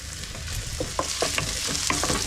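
A spoon stirs paprika into a sizzling mixture in a pan on a camper-van stove, with steady frying hiss and several distinct scraping strokes, close up and with no talk.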